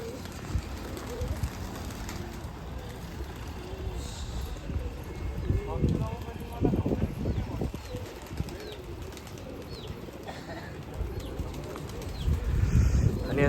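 Pigeons let out of a loft coo and rustle close by, with soft wing flutters and bird calls scattered through, while someone talks over them.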